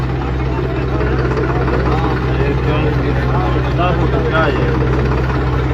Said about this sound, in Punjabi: ਪਿਛਲਾ ਟਰੈਕਟਰ ਪੂਰਾ ਜ਼ੋਰ ਲਾ ਰਿਹਾ